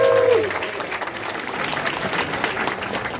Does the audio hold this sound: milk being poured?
no